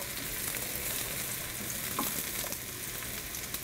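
Garlic mushrooms frying in a pan, a dense, even sizzle held close and loud throughout, with a few faint stirring taps and no talking.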